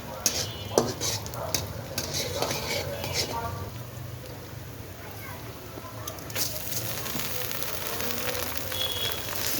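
Chopped onions and garlic frying in a pan for khichuri, a continuous close sizzle with occasional clinks and stirring scrapes, a voice talking faintly over it.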